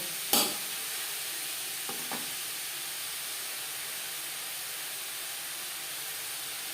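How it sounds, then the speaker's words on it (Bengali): Grated carrots for gajar halwa frying over a medium-high flame, giving a steady, even hiss of sizzling with a sharp utensil tap near the start and two faint knocks later. "হাই মিডিয়াম ফ্লেমে চার পাঁচ মিনিট গাজর ভেজে নেব"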